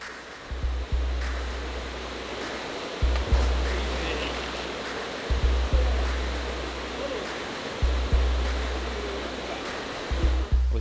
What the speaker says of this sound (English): this is the fast moving water that we talked about yesterday